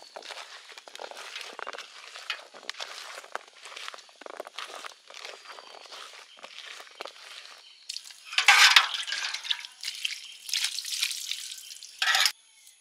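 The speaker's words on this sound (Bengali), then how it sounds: "সবজি ভালো করে ধুয়ে নিই।" Vegetables being washed by hand in water in a rural village kitchen, with repeated splashing and dripping bursts close by, growing louder and busier toward the end.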